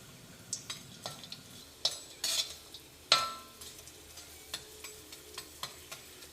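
Asafoetida frying in hot oil in a pan for Kerala sambar, giving a faint sizzle under intermittent light clinks and scrapes of a spoon stirring, quiet and close, with no voices.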